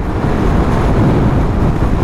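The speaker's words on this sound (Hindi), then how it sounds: "बहुत तेज़ हवा है," Loud, constant sideways wind roars and buffets the microphone on a Middle East motorcycle tour, a dense low rumble with no pauses and no voices.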